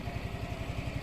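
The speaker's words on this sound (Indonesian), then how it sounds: "Terus mesin CVT udah pakai ACG, jadi dia suaranya lebih halus pada saat starter." A Yamaha Fazzio Neo Hybrid scooter's CVT engine with ACG starter idles nearby, giving a smooth, even low pulsing at a steady rhythm with no talk over it.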